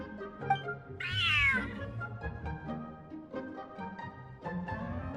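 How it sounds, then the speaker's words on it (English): A cat in Genshin Impact lets out one clear rising-falling meow around the one-second mark, set against game music and ambient background sound. "Smart cat."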